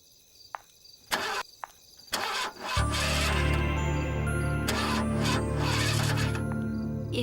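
A few scrapes and knocks give way to a car engine, out of petrol, that turns over and then runs with a loud, steady drone for several seconds. No voices are heard.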